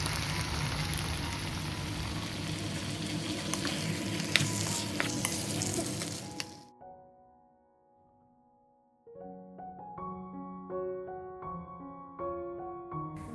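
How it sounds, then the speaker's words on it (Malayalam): Chicken stirred and fried with cooked-down tomatoes, a loud close sizzle with stirring scrapes for about six seconds, then cutting off to near silence before a light musical passage takes over. "ഈ ഒരു സമയം കഴുകി വൃത്തിയാക്കിയ ചിക്കനോടിട്ട് നന്നായി ഒന്ന് ഇളക്കിയെടുക്കാം."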